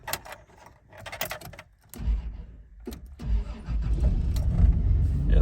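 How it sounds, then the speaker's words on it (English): A 1989 Toyota Land Cruiser FJ62 cranks with a few clicks and a short grind, then its engine catches and settles into a loud, close, rough idle. "So she'll fire up."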